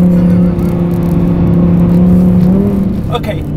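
Lamborghini engine droning steadily as the car drifts sideways on ice, a loud continuous hum that shifts pitch near the end, with wind noise and apparent talk over it.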